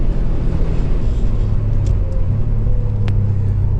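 A Subaru WRX STI engine misfires, a loud, steady rumble droning without a break, low and close, with faint uneven stutters mixed into the running motor.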